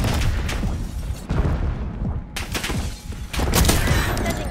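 Heavy gunfire and booming explosions in the multiplayer shooter Call of Duty Black Ops 6, with dense loud volleys, a brief lull, then another sustained barrage, and no talk.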